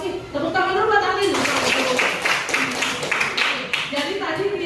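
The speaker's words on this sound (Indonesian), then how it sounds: "Tepuk tangan dulu buat Alin." Classroom students clap for a classmate during a lesson on fractions, a dense burst of hand claps rising after a teacher's voice and continuing steadily with talk mixed in.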